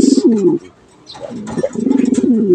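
Deep, rolling cooing from a Janssen racing pigeon repeats close by, a pause in the middle before the throaty cooing returns and continues steadily.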